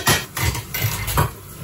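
A vintage fork clinks repeatedly against dishes, several close, bright metallic taps in an uneven rhythm over a short moment.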